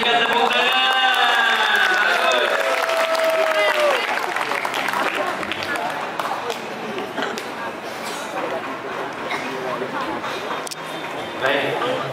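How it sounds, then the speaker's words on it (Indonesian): A voice speaks over the first few seconds, then an audience at a school student council debate breaks into steady, dense applause that holds for several seconds. "berikan tepuk tangan"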